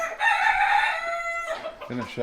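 A rooster crows nearby on a winter farm: one loud, drawn-out cock-a-doodle-doo that breaks into a few short clucks as it ends.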